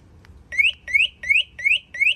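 An alarm on a Sondors Metacycle electric motorcycle sounds a series of five identical rising electronic chirps in a quick, even rhythm, loud and close with no talking.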